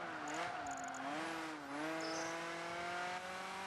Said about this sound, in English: I can hear some sort of flutter when you change gear.